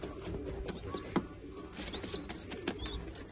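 Pitbull breeding pigeons with their young give soft, low cooing mixed with faint chirps, quiet and somewhat distant against a light background hiss.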